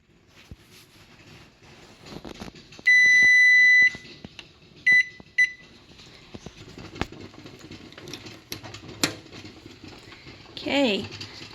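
An electronic kitchen timer beeps during pear butter canning, a loud sustained tone followed by two shorter beeps, close by among soft kitchen clatter and a voice speaking.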